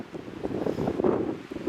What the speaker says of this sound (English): All right, guys, it's windy.